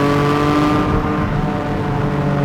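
A Porsche 718 GTS with a 4.0 engine and manual gearbox revs hard and loud, its deep engine note droning steadily throughout from inside the car.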